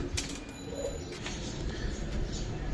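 Pigeons at a pigeon farm, including pink-beaked, pink-eyed birds of silver Giribaz and colored breeds, coo in a low steady murmur amid constant background noise and faint chatter.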